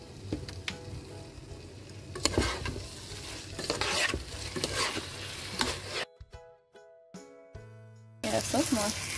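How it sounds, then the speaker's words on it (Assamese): Rice sizzles in a pan with chicken while a spatula scrapes and stirs it for pulao, steady frying crackle with metallic scraping strokes, then a brief quieter stretch before the sizzling returns. "তাৰপিছত মই চিকেনটোৰ লগত পৰা ৰাইচটো মই ধুনীয়াকৈ ভাজি ল'লোঁ"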